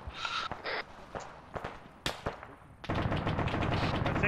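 Arma 3 gunfire crackles in sharp separate shots and short bursts at moderate distance, scattered irregularly before a denser, sustained rattle of machine gun fire with faint movement noises takes over.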